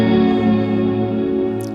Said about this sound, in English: That's pretty spacey. I love that tape echo sound.